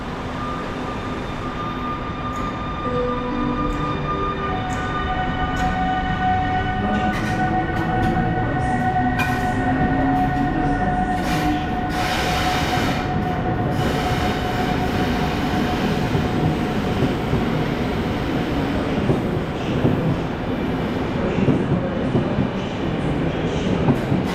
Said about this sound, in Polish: Pociąg malinowski odjeżdża punktualnie.